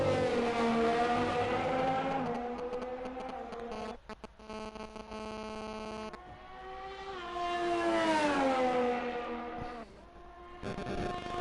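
An F1 race car in a racing video game, its engine whining steadily with rising and falling pitch through gear changes, fairly close and alone, with brief stuttering cuts and dips in the middle.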